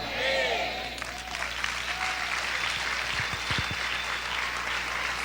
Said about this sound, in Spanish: dale ese fuerte aplauso al Señor Jesús